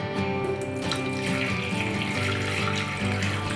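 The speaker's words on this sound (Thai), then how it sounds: "ใส่น้ำเปล่านะครับ ผมเติมน้ำเปล่าลงไป" Water is poured into a hot-water flask during cleaning, a steady continuous stream splashing into the vessel for the whole stretch.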